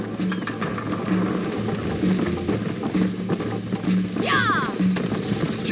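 A horse gallops in Red Dead Redemption, played on PlayStation 3 through the RPCS3 emulator: steady, evenly spaced hoofbeats pound under a busy background of game ambience, with a short sweeping chirp near the end.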